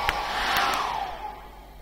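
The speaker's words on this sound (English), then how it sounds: "Now I'm going to put the hairdryer on that." A hair dryer blows steadily over wet acrylic paint on a canvas, a close, even rushing hiss lasting under two seconds.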